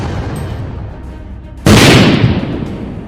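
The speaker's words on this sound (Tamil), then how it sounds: "மனித இயந்திரங்கள் வெடித்து சிதறுகின்றனவே" An explosion sound effect of robots blowing apart, in a Tamil narration of a Steel Claw comic: a sudden, loud, full blast cuts across a rumbling background and then slowly trails off.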